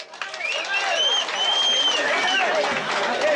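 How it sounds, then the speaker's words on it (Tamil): An audience at a Tamil village stage drama in Sivaganga district bursts into sustained, dense clapping and crowd noise, loud and close throughout, with a few shouts in the mix. "எல்லாரும் பலக்கா ஒரு கைதட்டு விடுங்க."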